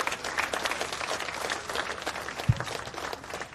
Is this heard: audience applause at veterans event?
yes